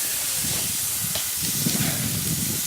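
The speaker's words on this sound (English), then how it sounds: "once you put it down, you should hear a good sear, like that" Steak searing on a hot grill, a steady loud sizzling hiss that stays close and continuous throughout with no breaks.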